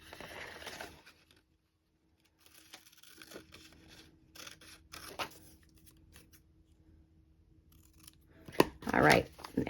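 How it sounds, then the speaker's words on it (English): Scissors snip and crunch through paper in short bursts with quiet pauses between, close up, ending with a louder rustle. "So I'm going to cut that out. Grab my scissors."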